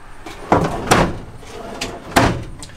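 A silverware tray drawer opens in the kitchen of a 2019 Airstream travel trailer, giving a few short, close wooden knocks and slides with no talking.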